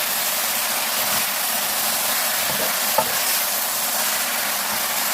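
Korean fish cake being stir-fried in a pan, giving off a steady loud sizzle with faint stirring scrapes and no talk over it.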